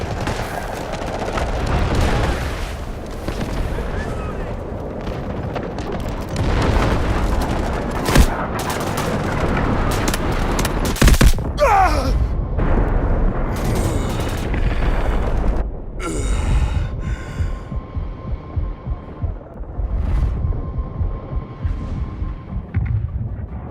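Guided missiles launch and explode in the military shooter Delta Force, with a continuous barrage of booms, gunfire and heavy blasts that carries on for over twenty seconds, loud and dense, with sharper impacts standing out.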